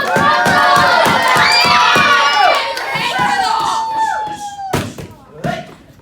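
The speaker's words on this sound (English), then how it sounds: "Everybody cheer him on" A crowd of children at a church demonstration shouts and cheers a performer on, with loud excited voices over rhythmic thumps and slaps. The noise fades in spurts toward the end, broken by sharp bursts.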